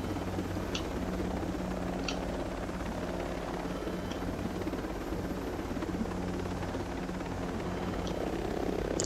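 Helicopter in the video game Ghost Recon Breakpoint, a steady whirring rotor drone with low engine hum that holds throughout at an even level, with a few faint ticking clicks on top.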